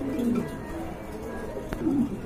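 A pair of red indigo pigeons coos in low, throaty, rolling calls, close by and fairly steady throughout the short moment, with faint background noise.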